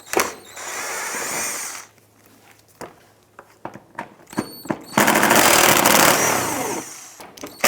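A power tool, likely an impact driver or drill, backing out 10mm bolts from the bumper cover of a 2006-2013 Chevrolet Impala. It gives loud close whirring bursts with clicks and clanks between them and no talking.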